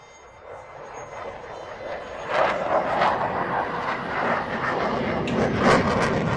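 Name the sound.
airplane engine flying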